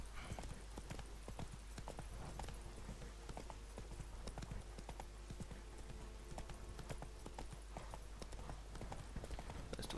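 Roach the horse gallops in The Witcher 3, a steady clip-clop of hooves repeating across the whole stretch over dense game ambience, with a voice speaking faintly now and then.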